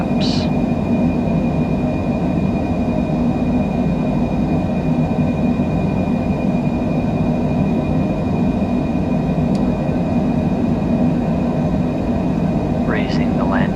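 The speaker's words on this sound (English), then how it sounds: "And we are off the ground, decreasing flaps." Airliner climbing out after takeoff from LAX as the flaps retract, heard from inside the cabin as a steady broadband engine roar with a constant whine and a couple of faint chirps near the end.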